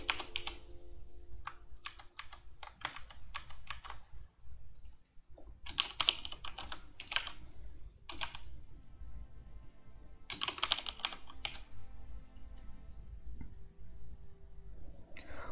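Computer keyboard typing while renaming a spreadsheet worksheet, in irregular bursts of close, crisp keystrokes with short pauses between them, and no voices.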